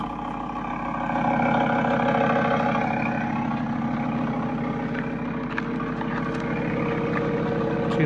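A 2016 Audi RS3/TTRS sports exhaust in comfort mode gives a steady, deep drone with a low rumble throughout, fairly close and even in volume, with no voices over it.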